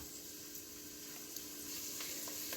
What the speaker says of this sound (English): So we are going to saute every vegetables for 3 to 4 minutes